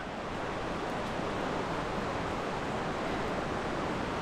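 Wahclella Falls in the Columbia River Gorge running at high water, a loud, steady, close roar of falling water that fills the whole stretch without letup.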